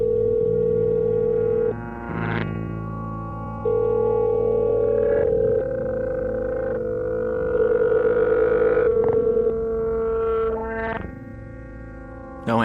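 Telephone redialed and ringing with no answer, steady electronic tones shifting in pitch with brief breaks between them, loud and continuous with nobody speaking.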